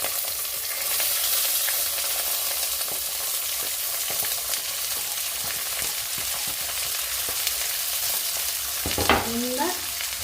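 Lentils fry in a very hot iron pan, giving a steady, close hiss of sizzling with light scraping from stirring that runs the whole time, with a brief sharper sputter near the end.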